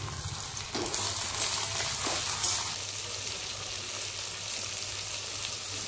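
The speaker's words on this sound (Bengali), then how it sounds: "দিয়েছি মাংস কষাতে" Chicken with tomato and a little salt fries in a pan, a dense continuous sizzle with a brief louder hiss and a couple of faint stirring knocks early on.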